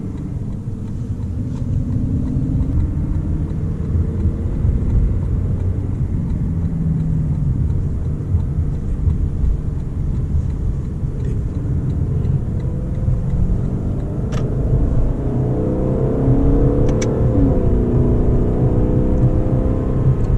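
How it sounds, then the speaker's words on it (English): A Lexus LC500 on the road gives off a loud, deep, sustained exhaust drone that rises and swells with acceleration, with a steady rumbling tone throughout and no talking. "That exhaust note is so good."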